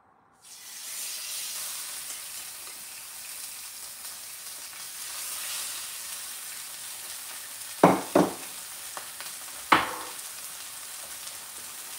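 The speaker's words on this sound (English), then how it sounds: "I don't want to add too much oil. I don't want to have too much splatter either, but as I mentioned, we're just going to pan fry these." Chicken pan frying in a little oil in a cast iron pan gives a steady close hiss of sizzling, with a few sharp scraping clatters near the end and no voices.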